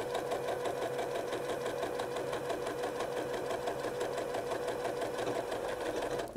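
A sewing machine runs steadily on auto repeat while stitching a patchwork seam, a fast even mechanical chatter that stays close and constant throughout with no speech.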